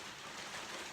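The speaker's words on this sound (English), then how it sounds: "Presently, it is pouring down rain here in Sydney" Heavy rain pouring down in Sydney, a steady dense hiss of drops with no breaks, moderately loud and close, with no voices over it.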